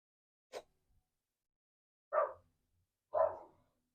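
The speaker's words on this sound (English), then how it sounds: "I apologize for the pups barking." Three short dog barks spaced apart, coming from a little distance, with silence between them.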